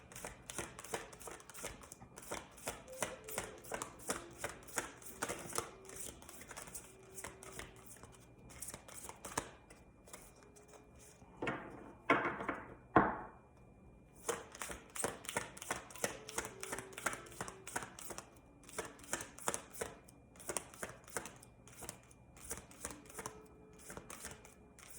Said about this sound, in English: now I'm going to pick another card, a chakra card